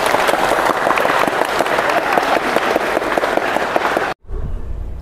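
An audience at a university campus programme claps together in a dense, loud burst of steady applause that cuts off abruptly near the end.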